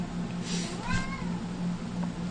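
A cat gives a single clear meow, rising and falling over about half a second, heard at moderate distance against a low steady background hum.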